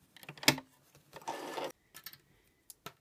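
Home sewing machine stitching the seam of an elasticated cuff, heard in short runs: a brief loud burst, then a longer steady whir of about half a second, followed by a few faint clicks and taps.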